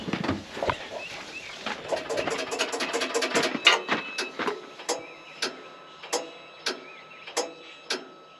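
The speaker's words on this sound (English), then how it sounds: "it cycled the air throttle valve, the EGR valve" Mechanical clicking and ticking speeds up into a rapid chatter, then slows to evenly spaced single clicks as the EGR and air throttle valves cycle during a diagnostic test on a John Deere 9460R tractor with EGR code 2791.07.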